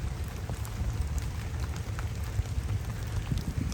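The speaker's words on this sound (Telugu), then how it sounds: "తొందరగా వర్షం పడుతుంది" Rain falls outdoors at a Ganesh immersion by the water, a steady moderate patter and hiss with low rumble, continuous and without voices.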